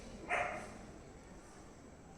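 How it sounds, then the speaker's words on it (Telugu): A dog barks once in a short, fairly loud burst near a dark house at night, followed by quiet background hiss. "కుక్కలు అయితే నా వెంకలనే తిరుగుతున్నాయి"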